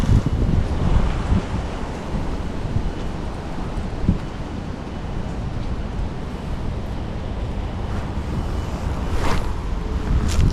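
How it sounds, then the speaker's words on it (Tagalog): Strong wind blows steadily at sea from a small fishing boat, broadband rushing and buffeting the microphone with rolling surf beneath, loud and continuous for the whole stretch with no talking. "Lakas ng hangin."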